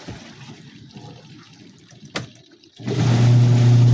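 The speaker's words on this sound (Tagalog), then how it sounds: "Yun, tumatapon tubig." Water gushes out of a clothes dryer during a motor replacement with a sudden loud rush after a quieter stretch of trickling and rumbling, close and steady to the end.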